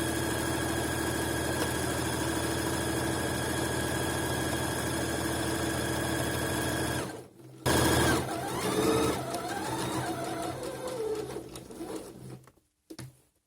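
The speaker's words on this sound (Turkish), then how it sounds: "Kenardan yarım santimden dikişimizi yapalım." A sewing machine runs steadily while stitching the lining onto a cross-stitch prayer rug, a continuous close mechanical whir that stops partway through, followed by faint handling sounds.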